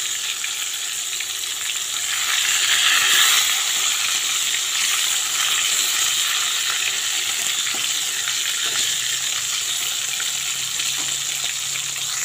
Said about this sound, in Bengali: ভালো করে বেগুনটা ভেজে নিতে হবে।